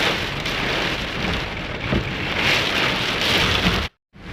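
Heavy rain pounds down in a strong windstorm in Abu Dhabi, a dense, loud, continuous roar of rain and gusts that drops abruptly to near silence for a moment near the end.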